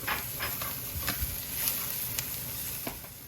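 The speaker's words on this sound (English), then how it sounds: "We're going to add our garlic, and we're going to stir that for 1 minute." Garlic stirred into caramelized onions in a hot pan, a steady close sizzle with scattered spoon scrapes and light pops, no voices.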